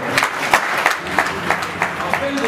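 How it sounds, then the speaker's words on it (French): An audience at a national forum for young women claps together, a loud steady patter of hands with a few sharper bursts standing out along the way. "je vous demande d'applaudir."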